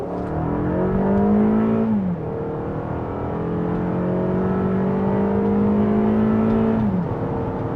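A 2025 Toyota RAV4 Limited accelerates from inside the cabin, its engine hum climbing in pitch through two gear shifts, steady and moderately loud with no talk.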